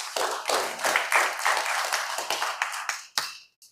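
An audience at an event celebrating a minister's life and legacy gives warm, steady applause, many hands clapping together before it thins out to a few last claps and fades.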